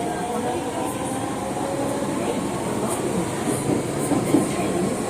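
Osaka Metro Tanimachi Line 22 series train with GTO traction control running between stations, a steady close rumble of wheels and motors with faint rail clicks, continuous with no talking.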